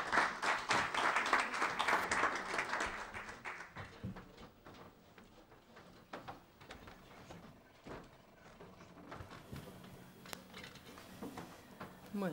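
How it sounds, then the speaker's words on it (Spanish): An audience applauds to welcome a presenter at a book launch. The clapping is fairly loud for the first three seconds and then thins into scattered, fading claps and a few taps, with no talking. "a ustedes les pido un fuerte aplauso para recibir a Alicia García Olves."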